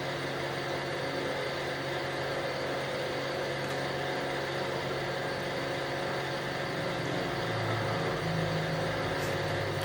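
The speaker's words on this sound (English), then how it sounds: "if I plug that, I can run the" A Subaru BRZ engine idles steadily with the turbo removed, a constant close mechanical drone and hum with no revving and no voices.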